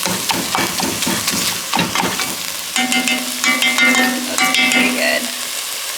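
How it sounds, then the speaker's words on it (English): Ground meat crackles and sizzles as it browns in a pan while a utensil breaks it up with repeated knocking, scraping strokes. A steady hissing fry runs underneath, close, and a voice speaks briefly. "Breaking up this meat and browning it."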